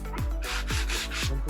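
Wood is lightly sanded by hand in three even, close rasping strokes, loud and alone.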